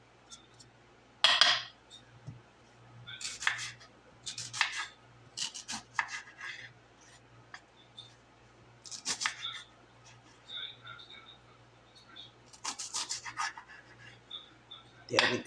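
Apples for an apple pie are sliced with a knife in a kitchen, giving a string of short, crisp cuts and scrapes on a board at an uneven rhythm, close and moderately loud over a faint steady hum.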